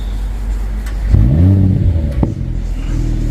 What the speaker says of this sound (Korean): 시동 소리는 지금 이 정도로 나오고요